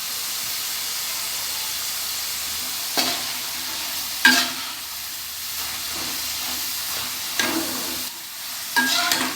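Potato chips frying in hot oil over a low-to-medium flame, a steady broadband sizzle and hiss with a few louder bubbling bursts and stirring scrapes, close and continuous with no voices.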